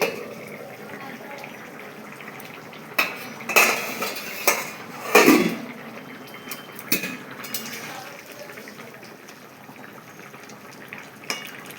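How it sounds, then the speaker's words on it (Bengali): A cooking pot's lid lifted after ten minutes of simmering taro and potatoes, giving a few metallic clanks and scrapes at moderate volume over a steady low kitchen background, with no talking. "এবার ঢাকনাটাকে তুলে নিচ্ছি"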